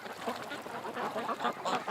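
A group of rescued ducks quacks in soft, continuous, overlapping chatter, moderately faint and close by, with no talking.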